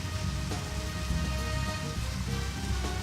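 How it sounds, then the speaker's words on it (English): Rain in the video game Deadly Premonition, a steady dense patter of drops on surfaces with a low continuous rumble beneath, even and unbroken throughout with no voices. "And it's raining."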